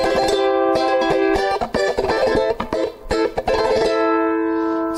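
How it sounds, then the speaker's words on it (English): Bright nylon-string strumming on a timple, the small Canarian ukulele, played close and full with quick rhythmic chords and short pauses between strokes, no voices. "I wrote it on this timple here, which is like the Canarian version of the ukulele."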